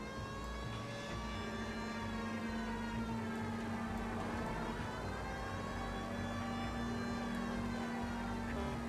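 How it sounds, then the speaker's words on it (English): A police car siren in the LA Noire video game wails steadily and loudly, with rising and falling pitch sweeps over a constant engine hum and no talk. "We're turning the sirens on."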